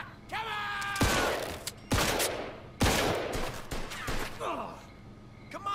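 Gunfire in Mafia 2 cracks out in several loud, sharp bursts and single shots spread across a few seconds. Someone speaks between and under the shooting.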